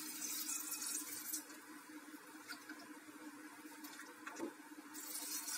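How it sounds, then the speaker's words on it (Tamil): Water poured into mango dal for cooking makes a soft, continuous splashing and filling hiss, fairly faint, with no talk over it. "தேவையான அளவு தண்ணி ஊற்றலாம்"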